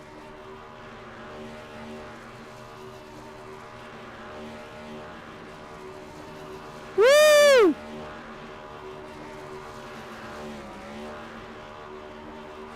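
A NASCAR Cup Series race car doing burnouts at Homestead in the iRacing video game drones with a revving engine, then a loud rising-and-falling whoop of revs cuts through briefly. A voice gives one short excited shout.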